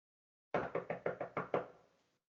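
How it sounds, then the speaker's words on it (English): Six sharp knocks on a wooden door, evenly spaced and fairly loud, ring with a short reverberant tail, staged as a sound effect in a Macbeth audio play. "Here's a knocking indeed."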